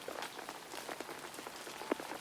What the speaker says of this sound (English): The rain continued to fall over Sleepy Forest. Pitter-patter, pitter-patter.